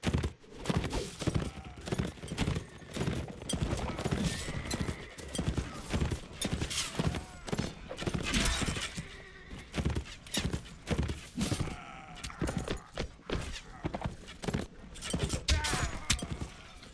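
Horse hooves clip-clop in a video game battle campaign, a dense, busy stream of hoofbeats from many horses, with an occasional whinny and dull thunks, loud and continuous for the whole stretch.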